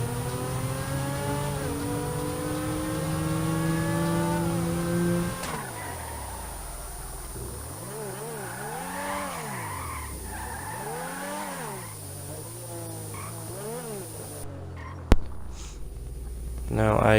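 X80 Proto supercar in GTA V revs hard through rising gear shifts, then its tires squeal and skid in long wavering sweeps, ending with a sharp thump and renewed engine revving.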